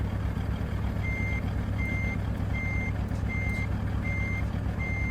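A truck in Euro Truck Simulator 2 sounds a steady run of evenly spaced reversing beeps over a loud low engine rumble while backing up to hook a trailer.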